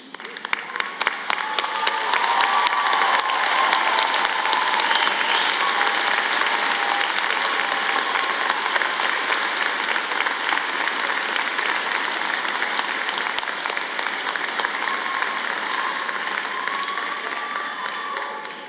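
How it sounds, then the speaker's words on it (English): A commencement crowd at Smith College's 146th ceremony applauds friends and family, a dense, steady wash of clapping from a large audience sustained loudly for nearly twenty seconds with a few sharper claps standing out. "applaud your friends and family here or online"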